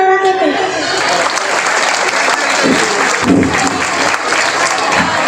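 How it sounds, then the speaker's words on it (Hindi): An audience at a junior kindergarten school performance claps loudly and continuously, a dense close burst of applause with a little crowd murmur mixed in. "जोरदार तालियां।"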